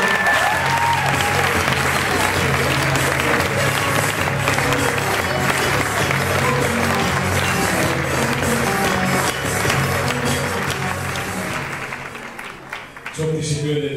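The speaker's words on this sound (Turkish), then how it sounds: "Muharrem Türksever'i alkışlarla davet ediyorum." Dense, sustained applause from a school theatre audience welcoming a speaker on stage, loud and even for about twelve seconds before thinning out near the end.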